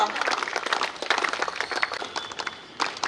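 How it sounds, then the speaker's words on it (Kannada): An audience claps at an inauguration ceremony of an adolescent empowerment programme at a school, a dense patter of many hands mixed with voices, fading slightly then swelling again near the end. "ಕೈ ಚಪ್ಪಾಳೆ ಜೋರಾಗಿ"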